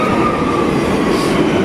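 A train rolls into a station platform in Valencia, Spain, with a loud, continuous rumbling roar of wheels on rails close by.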